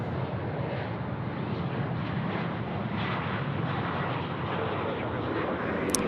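A departing aircraft at Sydney Airport gives a steady broadband roar of jet engines, distant and sustained for the whole span, with faint chatter underneath.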